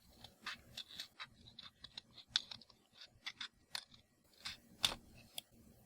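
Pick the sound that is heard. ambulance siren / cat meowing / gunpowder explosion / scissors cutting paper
scissors cutting paper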